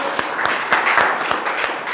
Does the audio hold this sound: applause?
yes